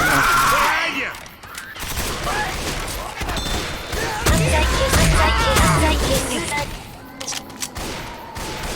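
Gunfire in the video game Left 4 Dead, Death Toll campaign: dense, rapid bursts of shots crackle and thump close by, with voices talking and shouting over the shooting throughout.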